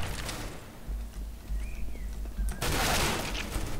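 An SMG or rifle fires in the Counter-Strike: Global Offensive video game. A loud, dense burst of automatic fire comes in abruptly after a quieter stretch of faint ambient game noise.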